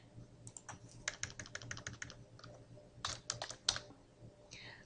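Bursts of rapid keystrokes clatter on a nearby keyboard, typed in quick clusters separated by short pauses.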